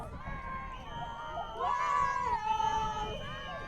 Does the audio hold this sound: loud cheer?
yes